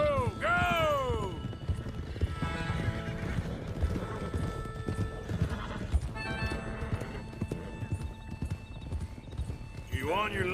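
Horses trot with steady clip-clop hooves and let out whinnies in Red Dead Redemption 2, the neighs rising near the start and again at the end, while voices talk over the herd throughout.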